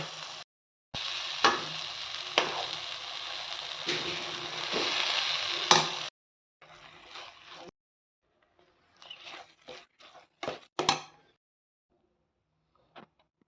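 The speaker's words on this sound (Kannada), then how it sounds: "ಬೇಳೆ ಅನ್ನ ಕುದಿಸಿರುವಂಥ ಎಲ್ಲ ಮಿಕ್ಸ್ ಮಾಡಿದಂತೆ" Boiled dal and rice being stirred and mixed in a pan with ghee and mustard seeds, giving steady scraping and sloshing for several seconds, then scattered short clinks and scrapes, close and fairly quiet, with no talk.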